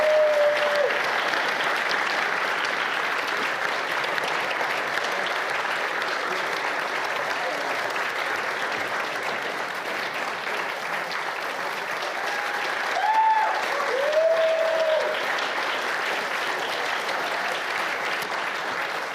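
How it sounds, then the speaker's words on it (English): A demo day crowd at The Greenhouse (Cohort 6) gives sustained, loud applause for the top audience vote winner, steady throughout with a slight swell near the end and a few faint whistles or cheers. "please join me with a huge round of applause for our top audience vote winner"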